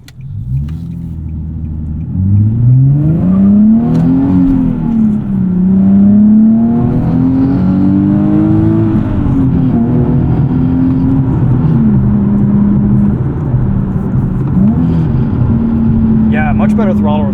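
Nissan 370Z six-speed manual, 2012 model, revs loudly while being driven, its engine note climbing and falling with several gear changes over a steady close-up cabin drone.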